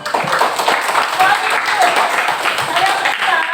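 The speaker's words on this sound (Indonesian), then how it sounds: "Ya, tepuk tangan lagi." Classroom students clap together in a dense, steady wash of applause that runs throughout, with voices chattering underneath.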